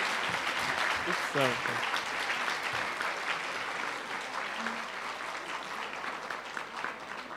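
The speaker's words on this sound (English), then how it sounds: "Please let us applaud Professor Reid" Audience applause after a foundation annual lecture, sustained clapping from a large hall, fairly close and steady, with a voice briefly heard over it early on.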